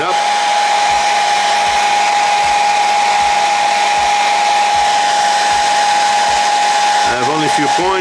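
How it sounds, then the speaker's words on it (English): A heat gun blows hot air onto a part of a Ferrari 488 Pista scale model car, a loud, constant close-up whooshing hum with faint regular low thumps beneath it. "So I'm just gonna put the heater again. Not too hard, just a little heater."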